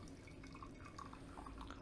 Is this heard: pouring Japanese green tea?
yes